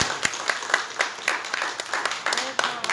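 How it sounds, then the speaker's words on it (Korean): Church congregation clapping at a Sunday worship service to welcome newcomers, a moderate round of applause with distinct individual claps, some close by, and a little chatter mixed in. "우리 박수로 환영하겠습니다."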